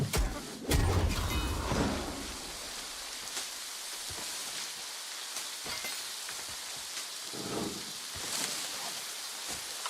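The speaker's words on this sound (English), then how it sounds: "The sound of the rain" Rain falls in New World as a soft, steady hiss with scattered droplet ticks and a few louder splashes early on.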